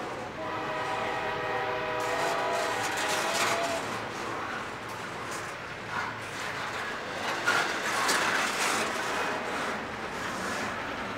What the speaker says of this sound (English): This is actually your first time of seeing this train come out.